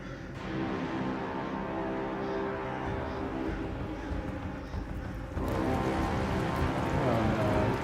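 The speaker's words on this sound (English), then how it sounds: "Are we getting rained blood on?" Rain falling in the video game Black Myth: Wukong, a steady dense hiss of drops that grows slightly louder partway through, with a muffled rumbling underneath and no talking.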